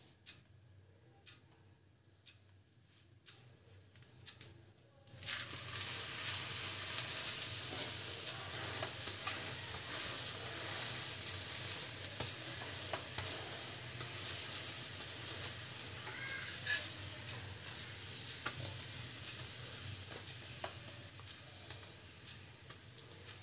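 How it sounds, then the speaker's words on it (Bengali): Radish paratha frying in oil: after a quiet start with faint ticking, a loud, dense sizzle suddenly erupts and holds steady, with occasional crackles and pops. "দুটো তো ভাজা হয়ে গেল, বাকিগুলো মা ভেজে নে"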